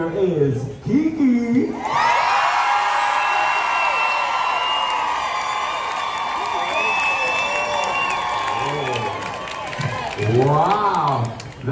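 A cruise ship audience cheers and shrieks for a contest winner: a sustained roar of high whoops and screams with clapping that holds for several seconds, bracketed by a host's voice at the start and end.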